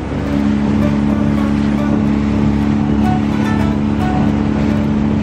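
A boat engine runs with a steady, loud motor drone and a low rumble, without a break throughout, idling close by, with wind noise layered over it.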